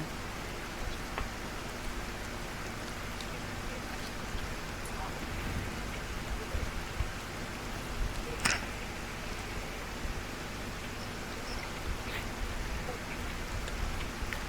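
Steady, moderate rain in the video game Arena Breakout: Infinite hisses throughout with scattered droplet patter and one sharper tick, no voices over it.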